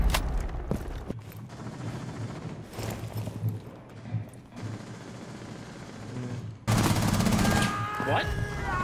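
Gunfire in Rainbow Six Siege: scattered sharp shots early on, then a loud sustained burst near the end over a busy in-game background.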